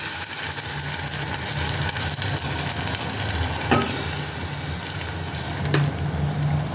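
Ground masala fries with onions in a pan for egg curry, giving a steady moderate sizzle with a couple of sharp clanks from a utensil.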